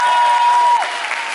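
Brief, loud applause from an audience at a cosplay contest in Dijon, dense clapping that tapers slightly toward the end, with a faint tone under the first half.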